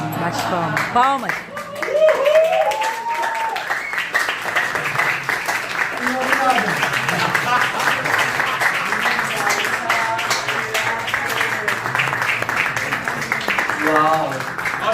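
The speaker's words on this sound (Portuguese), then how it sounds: "Bate palmas. Palmas." An audience at a university communication school event claps, a continuous patter of applause under loud, overlapping talk and cheering voices for the whole stretch.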